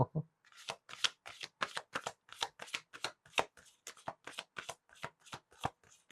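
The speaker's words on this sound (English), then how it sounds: "This one's a little tricky to shuffle." A large deck of oracle cards is riffled and shuffled by hand, a steady train of crisp rapid flutters and snaps repeating about three times a second, close and clear.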